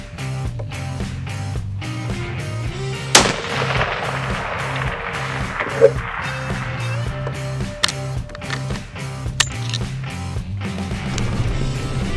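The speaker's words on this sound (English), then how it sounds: "So let's go ahead and raise it up and fire a few more shots." A .300 Win Mag rifle firing reload tests at a long-range 700-yard shooting setting: a few sharp loud cracks spaced several seconds apart, heard amid steady clattering and outdoor noise.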